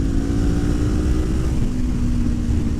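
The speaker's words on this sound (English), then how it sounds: "I hear a lot of wind noise and not a lot of exhaust" Wind roar while riding a Kawasaki Ninja 400 fitted with an Akrapovič exhaust, a loud steady rushing blast with a low engine hum underneath throughout.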